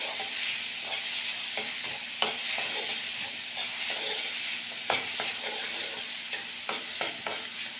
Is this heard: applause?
no